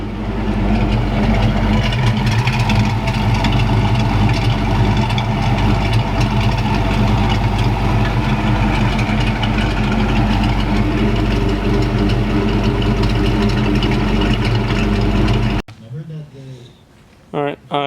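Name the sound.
Ford Mustang SN95 engine idling, warming up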